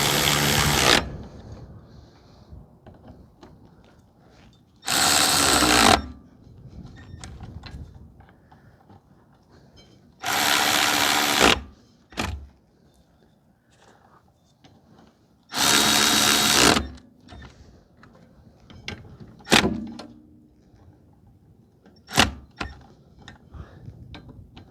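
A power tool tightens rear hub bolts on a 2005 Toyota Corolla in loud, separate bursts of about a second each, with quiet pauses and faint clinks between them.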